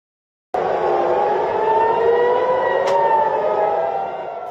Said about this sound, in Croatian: Noć u Tel Avivu prekinule su sirene za vazdušnu opasnost i eksplozije.